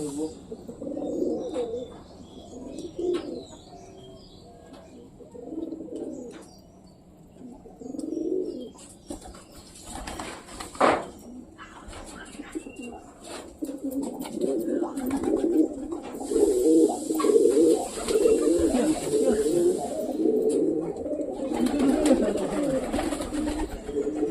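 Pet pigeons coo in soft, repeated low bursts nearby, with occasional chirps and wing flutters, while voices and household noise rise in the background during the later part.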